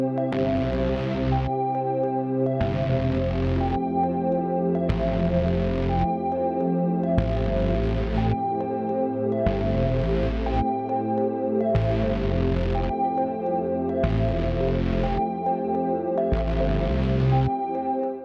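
Distorted Reese bass layered with other synth parts in an electronic production, a thick, gritty low drone shifting between notes in steady sections while brighter synth bursts pulse on a regular beat above it.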